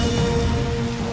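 Steady rain falling outdoors where children are playing, a dense even hiss throughout with a brief brighter splash at the end.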